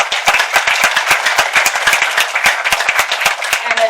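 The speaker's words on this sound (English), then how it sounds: "Can everyone just give a round of applause to Anna?" Sharp, closely miked clapping from a few nearby audience members at a political panel event, a rapid irregular patter of distinct loud claps over a quieter background crowd.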